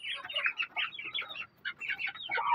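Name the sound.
grown chicks clucking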